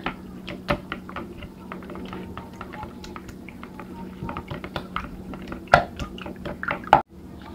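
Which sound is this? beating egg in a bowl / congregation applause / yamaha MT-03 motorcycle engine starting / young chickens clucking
beating egg in a bowl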